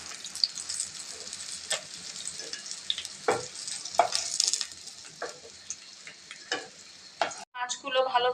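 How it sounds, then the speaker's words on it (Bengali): Pieces of rohu fish fry in hot oil and are flipped over, giving a loud crackling sizzle with repeated scraping clinks of a utensil against the pan. "আমি ভালোভাবে মাছগুলো উল্টিয়ে পাল্টিয়ে ভেজে নিয়েছি।"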